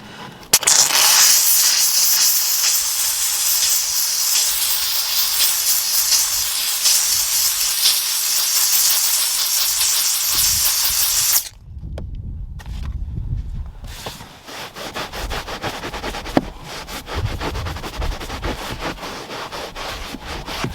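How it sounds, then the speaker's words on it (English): Dupray steam cleaner hissing as its bristle attachment agitates a stain on carpet, a loud steady hiss for about eleven seconds, then brief quiet and lower scrubbing and rubbing noises. "So I'm just going to try and agitate it with the steam and see if this can help us shift this."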